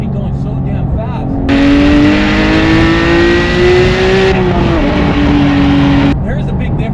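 A Porsche 718 GT4 or GT3 engine roars loudly as it accelerates at speed, its pitch climbing steadily for several seconds, then dips briefly and holds high before easing off.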